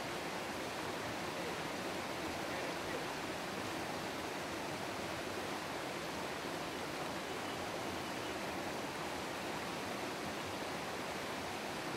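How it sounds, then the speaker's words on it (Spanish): A trout river rushes and babbles steadily, a constant broad hiss of flowing water heard from nearby, with no voices. "Y la verdad es que el río es una maravilla."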